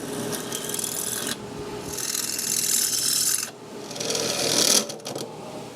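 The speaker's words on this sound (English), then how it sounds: "and then I'll go at it with the step bit." A step bit bores and enlarges a hole in a metal amplifier chassis for a tube bass preamp, three sustained rasping bursts of cutting with short pauses between, loud and close with no talk.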